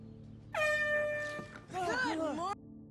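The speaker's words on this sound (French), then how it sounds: "elle utilise un klaxon pour réveiller Lee" An air horn blares in two long, loud blasts to wake a sleeping person, the first a steady tone and the second wavering, with a short gap between them.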